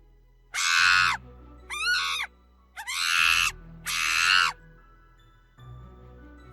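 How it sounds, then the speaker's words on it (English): A monkey gives four loud, harsh screeching calls in quick succession, each a short raspy burst of about half a second with brief gaps between, close and prominent, with no other sound over them. "monkey,"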